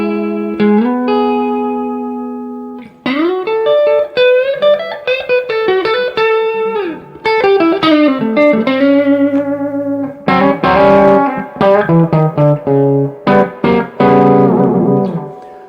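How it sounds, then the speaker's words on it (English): Clean electric guitar played through reverb only, with melodic single notes and chords ringing out and decaying into a spacious tail, phrases separated by brief pauses. "Now it's just reverb only."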